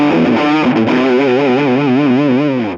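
Distorted electric guitar through an overdrive pedal into an amp, sustained chord ringing loud and thick with a steady wavering vibrato, held for the whole moment before fading slightly at the end.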